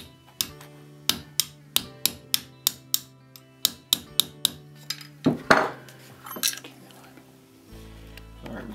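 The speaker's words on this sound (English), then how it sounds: "we're just going to gently tap this in" A hammer gently taps a gas piston bushing into place while an Adams Arms gas piston rifle is assembled, making about a dozen crisp, evenly spaced metallic clinks close by, followed by a few softer knocks and some handling noise.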